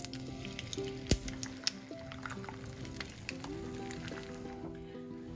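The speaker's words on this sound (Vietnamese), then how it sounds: "Bây giờ tới mình chiên cái phần trứng trước" Egg frying in a pan for japchae, a steady soft sizzle with sharp pops and clicks of the pan and utensil, while background music plays underneath.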